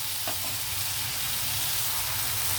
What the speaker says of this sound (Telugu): అల్లం వెల్లుల్లి అలాగే ఉల్లిపాయ టమాటో కొంచెం వేగనిద్దాం